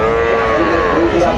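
At a livestock market's calf section, young cattle moo loudly and nearby in one sustained bellow, with crowd voices and market noise underneath.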